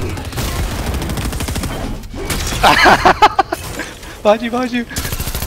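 Rapid gunfire in a multiplayer shooter game aimed at the player: loud, dense bursts of shots and impacts fill the scene at close range while people talk over it.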